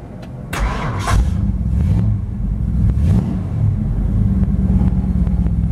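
A 1956 Ford F100 pickup, a restomod with an automatic overdrive, cranks over and fires, then settles into a steady, close, loud idle with a deep rumble and no talking.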